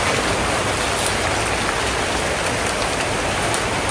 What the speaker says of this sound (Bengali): দেখেন বৃষ্টি হইতেছে এদিক দিয়ে আর এদিক দিয়ে মাছ কাটা চলতেছে